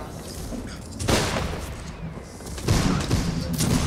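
Musket volleys crack out across a video game battlefield, two dense bursts of massed fire at about one and two and a half seconds, over a constant background din.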